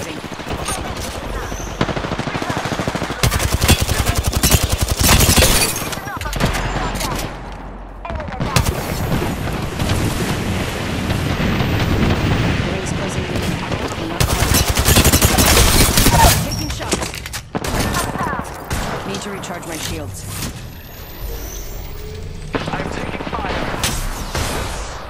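Heavy automatic gunfire in Apex Legends on Xbox Series S, dense overlapping bursts and volleys with short pauses, loud and close, with game voice lines mixed in.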